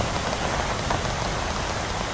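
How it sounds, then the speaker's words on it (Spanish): Steady, dense rainfall in the survival video game The Last Haven, a continuous even hiss with no breaks and no voices. "Y llueve."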